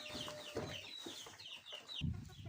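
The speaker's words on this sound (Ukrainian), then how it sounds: "А ось кури клюють буряк червоний." Chickens cluck and chatter close by while pecking red beetroot, with irregular low bumps and scuffs of pecking underneath and a brief louder thump near the end.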